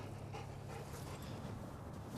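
A trained patrol dog pants quickly and steadily at close range, with faint whimpering mixed in over a low background hum.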